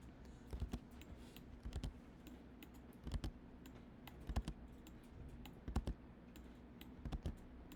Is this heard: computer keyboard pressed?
yes